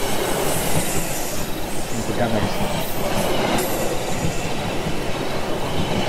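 A video-game train rumbles steadily throughout, a dense continuous roar with faint squealing wheels, as someone talks quietly over it.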